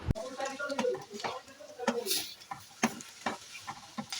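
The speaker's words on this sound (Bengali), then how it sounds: "সব কিছু দিয়ে মিশি নিচ্ছি আর গ্যাসের ফ্লেমটা সময় মিডিয়াম করে দিয়ে এক মিনিটের জন্য একটু নাড়িয়ে নিচ্ছি" A spoon scrapes and stirs fried potatoes through a thick poppy seed paste in a pan over a medium gas flame, in irregular strokes over a soft, steady sizzle.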